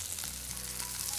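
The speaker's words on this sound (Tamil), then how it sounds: "இப்போது நல்லா வதக்குங்க." Chopped vegetables and spring onion sautéing in a hot pan for Schezwan fried rice, a faint continuous hiss of frying heard up close, brief and without speech.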